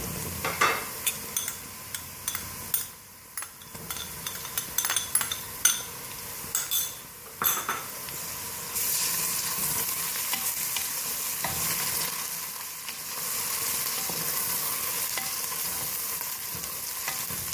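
Garlic ginger paste sizzles and fries in a hot pan while a spoon repeatedly scrapes and clinks against the metal, the sizzle growing steadier toward the end.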